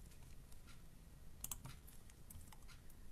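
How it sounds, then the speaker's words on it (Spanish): Arrow keys on a computer keyboard are pressed in a few faint, quick clicks bunched near the middle, over a quiet room hum. "Con las flechas del teclado"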